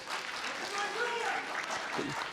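Audience applause at a Gwangju party candidate screening event, a short steady burst of clapping with talk running over it.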